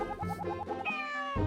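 A cartoonish cat meows in a cat-themed video game, a quick run of short rhythmic mews followed by a longer drawn-out meow, clear and close with no talk over it.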